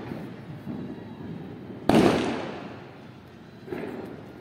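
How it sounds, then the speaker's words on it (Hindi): A single sharp Diwali firecracker bursts about two seconds in, close and loud, and its rumble fades away, with softer crackling and background noise of the outdoor celebration before and after. "इसको बड़ा मजा आ रहा है इसको बम जलाने में"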